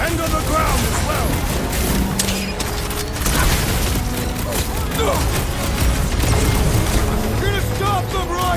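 Rapid blaster gunfire and impacts crackle through a busy Guardians of the Galaxy combat scene, dense and continuous, mixed with mechanical clanks, a game soundtrack and characters shouting over the action.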